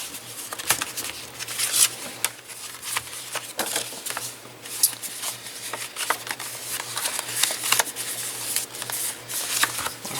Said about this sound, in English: So all you have to do now is fold these where you had your score lines.